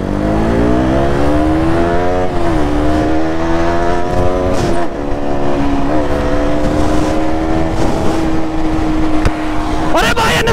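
Two 200 cc motorcycles, a KTM Duke 200 and a Bajaj Pulsar 200 NS, accelerate hard side by side in a drag race, engines revving loudly and rising in pitch throughout, with a spectator shouting over them.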